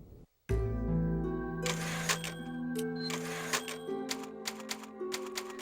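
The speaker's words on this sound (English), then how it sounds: "There's the typewriter." Typewriter save-point sound in the Resident Evil 4 video game: rapid mechanical key clacks and a ding over sustained game music, heard alone without talk.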